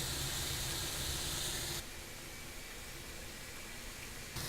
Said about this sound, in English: today I'm cooking on this iron griddle. Place the beef down. And the asparagus as well.